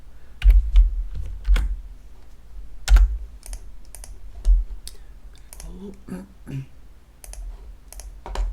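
Computer keyboard keys clicked while copying a spreadsheet formula with Ctrl+C, a close run of irregular taps with a few louder thumps and occasional brief soft sounds between them.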